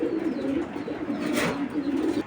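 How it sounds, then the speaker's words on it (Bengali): A big-size Huma pigeon coos close by in a steady, rolling series of low throaty notes that continue without a break for the whole stretch, with no voices over it. "এটা হলো হুমা কবুতর কিন্তু ডাক একশো একশো ডাক"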